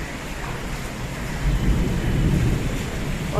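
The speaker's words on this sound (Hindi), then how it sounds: "इधर बस अचानक से बारिश होने लगी" A thunderstorm with rain makes a dense, steady patter of rainfall, with a deep low rumble of thunder swelling in the middle and staying under the wash of rain.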